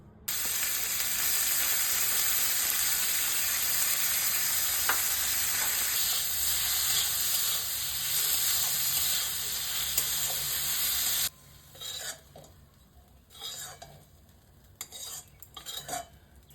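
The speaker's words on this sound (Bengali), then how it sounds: "এই চিংড়ি মাছগুলো নুন আর হলুদ দিয়ে ভেজে নেব।" Large prawns, cut in two and coated with salt and turmeric, fry in hot oil with a loud, steady hiss for about eleven seconds, then the sizzle drops away and a few utensil clinks and stirring scrapes follow.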